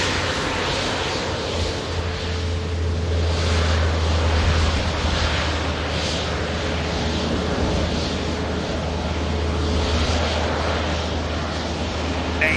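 An aircraft at Manchester Airport, heard as a steady, broad jet roar that holds at an even level throughout, with a low droning hum underneath and light wind buffeting.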